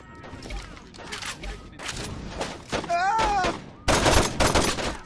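Gunfire in Saints Row 2 comes as a few scattered shots mixed with other game noise and mechanical clunks, under excited talking.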